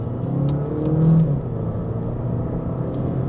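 Mercedes A-Class with a small 1.3-litre petrol engine accelerating, heard from inside as a moderate, smooth rumble that swells slightly then levels into a steady hum, with no talking.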